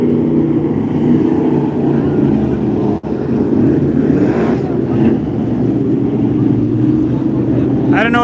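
Super truck engines idle at Vado Speedway before a race, a loud, steady low rumble with wind buffeting the microphone. A brief dropout comes midway, and the idle rises slightly toward the end.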